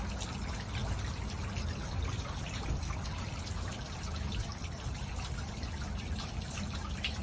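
A garden water feature at Roger's Gardens in Newport Beach, California, trickling and splashing in a steady, continuous wash of running water, close and unbroken with no talk.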